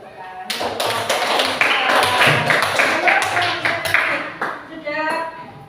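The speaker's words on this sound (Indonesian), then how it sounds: "tepuk tangan" A group of people in a classroom clap together, a dense burst of hand claps with a ragged rhythm that starts suddenly, holds for several seconds and tapers off near the end.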